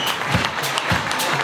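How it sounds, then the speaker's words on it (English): An audience applauds the organisers at a 25th anniversary country music show, a short burst of steady clapping close by and filling the whole moment. "give the organisers here a massive round of applause, Sandy and John, for having us here tonight."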